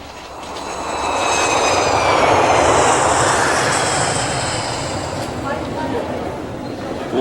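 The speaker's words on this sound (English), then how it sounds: "Old plane." An old airplane engine drones loudly, its roar swelling over the first seconds and then holding a steady, dense rumble.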